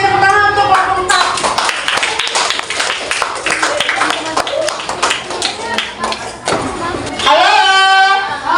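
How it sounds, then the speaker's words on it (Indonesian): Clapping for a student group in a classroom after a presentation, dense hand claps from many people, with children's voices and talk at the start and end. "tepuk tangan untuk kelompok 4"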